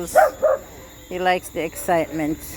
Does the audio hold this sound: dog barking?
yes